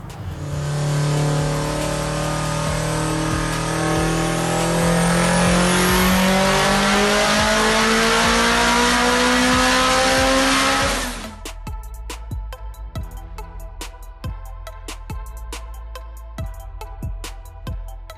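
A nine-second Subaru street race car accelerates hard through the gears, its engine loud and close with rising pitch, then the roar cuts off sharply and gives way to sharp crackles and pops.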